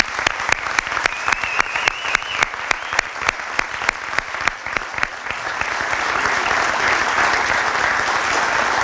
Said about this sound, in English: One real big round of applause for Coach Bob Stolzer.